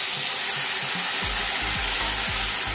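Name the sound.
frying pan sizzling as three tomatoes are added to fried ingredients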